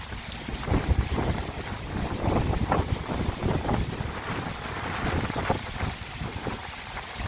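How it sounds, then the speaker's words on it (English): Strong gusts from Tropical Storm Cristobal on the Gulf Coast at Dauphin Island, Alabama buffet the microphone in loud, roaring surges with no pause. "I've got a little bit of blocked wind to my back"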